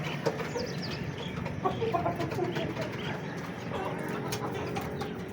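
Soft clucking from Aseel chickens and an Aseel rooster sits low under a busy outdoor background with scattered ticks and rustles, fairly faint and continuous.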